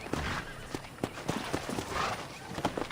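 Horse hooves in the western video game Red Dead Redemption, a quiet, steady clip-clop of walking hoofbeats with faint background ambience.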